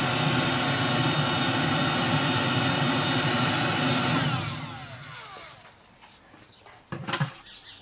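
Looftlighter hot-air charcoal starter lighting lump charcoal in a Primo ceramic grill: a loud, steady roaring blast of air for about four seconds, then it drops off into quieter crackling and rustling with a brief louder burst near the end.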